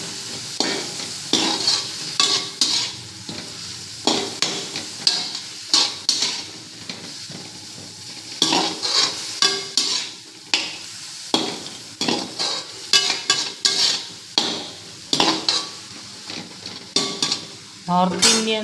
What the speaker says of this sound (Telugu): కాసేపు మూత పెట్టి అంతా ఫ్రై అయిపోయిందండి